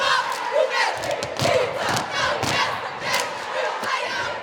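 A school team's crowd shouts and cheers in a loud pre-game hype, overlapping voices rising in bursts with a few thumps, close and energetic.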